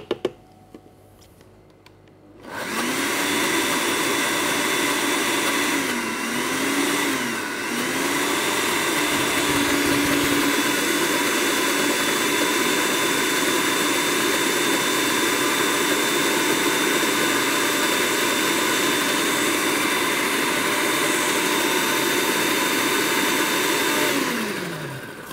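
A kitchen blender whirs steadily for over twenty seconds, blending strawberries, raspberries and tomato into gazpacho, loud and close, with its pitch dipping briefly now and then as the contents shift.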